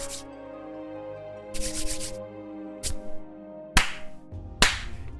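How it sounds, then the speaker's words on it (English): Several separate, sharp hand claps ring out over a steady, humming background tone indoors, spaced irregularly with one longer burst of rustling noise between them. "Good claps today."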